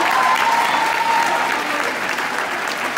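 A school assembly audience applauds the MCs who rapped, a loud, sustained crowd clapping at a close, even level, fading slightly toward the end.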